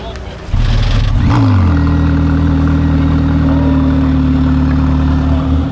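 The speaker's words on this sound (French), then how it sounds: "On va l'entendre démarrer, le démarrage de la Speedtail." A McLaren Speedtail fires up with a loud burst, electric motor then petrol engine, quickly settling into a steady, deep idle that drones on evenly with a rising whine.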